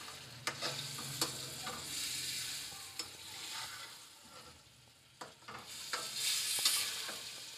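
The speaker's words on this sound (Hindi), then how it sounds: "इसे इसमें अच्छी तरह से मैं मिक्स कर लूंगी" Vegetables with spices, including crushed black pepper, stirred in a frying pan for an egg curry. A steady sizzle runs under repeated sharp clinks and scrapes of the spoon against the pan.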